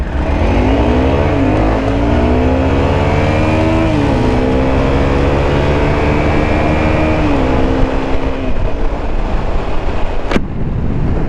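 An older 650 and a newer 250 motorcycle accelerate hard in a rolling-start race, engines revving loud and steady through rising gear changes with a sharp click near the end, no talk.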